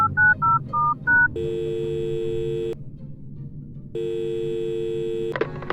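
A telephone is dialed to call headquarters: a quick run of five DTMF keypad tones, then two long steady ringback tones separated by a pause, with a brief click at the end.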